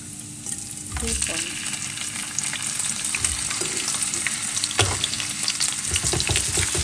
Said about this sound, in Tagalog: ginisa ko ng bawang sibuyas. Ilalagay na natin ang hipon.